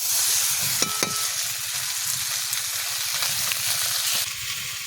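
A rohu fish head curry is stirred and fried in a pan during village cooking, with a steady, close sizzle and the repeated scrape of a spatula running through the whole stretch; no one speaks.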